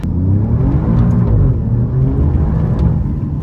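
An Alfa Romeo Giulia QV sports car accelerates, its engine a loud, close, continuous rumbling drone that swells slightly, with no talk over it.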